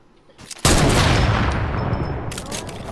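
Gunfire in the Fortnite battle royale video game: a sudden loud burst of rapid shots after a quieter start, sustained as dense continuous firing through to the end.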